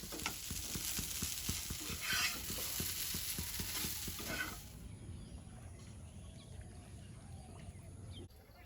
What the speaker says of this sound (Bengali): আলুটা প্রায় ভাজা হয়ে আসছে